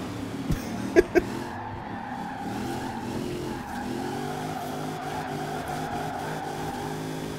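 A car drifting in Forza Horizon 4 from cockpit view, all-wheel drive, a steady engine drone with sustained tyre squeal and a few brief knocks early, no talk.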